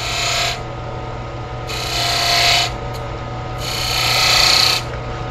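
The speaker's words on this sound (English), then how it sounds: "Take the skew. Cut three little lines." A skew chisel cuts three small decorative lines into a pen turning on a lathe: three separate rasping scrapes, each lasting about a second, rise over a steady low motor hum with short pauses between them.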